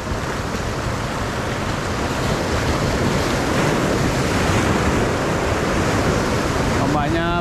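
Continuous roar of big ocean surf and crashing waves on the shore with wind, loud and close, no talking.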